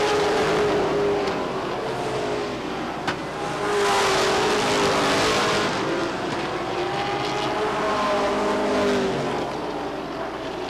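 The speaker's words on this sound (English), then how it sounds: "Leaders race through the third and fourth turn." Race cars roar through the turns at Lee Speedway, their engines whining and droning with rising and falling pitch as they pass, a loud continuous roar over the short-track circuit with no talk.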